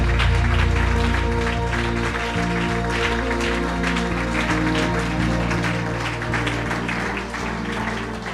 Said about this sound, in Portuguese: Damos um aplauso com mais força.